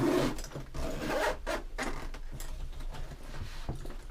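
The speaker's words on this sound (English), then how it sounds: "Zipped up, and you're good to go." Zipper pulled closed on a Plano Guide Series 466331 tackle bag, heard up close as a series of quick, raspy zipping strokes with rustling of the bag fabric and no speech.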